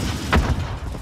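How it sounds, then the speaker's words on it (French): A stun grenade detonating in Call of Duty: Modern Warfare, a short, heavy thump standing out over a dense rumble of in-game combat noise. "Je lance une grenade paralysante"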